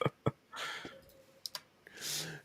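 Sharp clicks from a loud mechanical keyboard come in a few scattered bursts, with two distinct taps at the start, a quick pair midway, and a breathy sigh-like noise in between.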